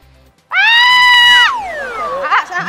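A woman screams loudly and close by during a home golf putting attempt, holding one sustained high shriek that trails off downward, followed by excited voices and laughter.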